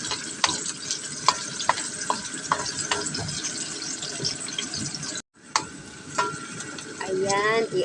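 Chopped onions sauté in a hot pan for pineapple chicken adobo: a steady, close sizzle broken by sharp scrapes and clacks of stirring, with a brief hush near the end before the frying swells again.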